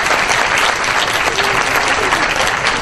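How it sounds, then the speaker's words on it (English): An audience at a school district board of education meeting applauds a golf coach named Coach of the Year, a dense, steady wash of clapping heard close and alone for about three seconds. "So a round of applause for Mr. Blanco."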